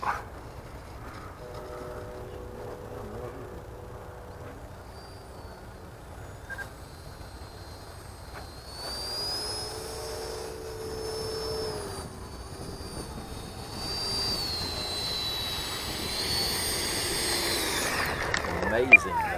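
RC jet motor on a Freewing Rebel V2 in flight, a faint distant whine that rises and sweeps in pitch, growing louder toward the end over outdoor background noise.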